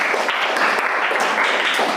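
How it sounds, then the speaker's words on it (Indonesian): A class gives steady applause for a student group after its presentation: dense, continuous clapping from many hands, fairly close, lasting about two seconds. "beri aplaus kepada kelompok 4"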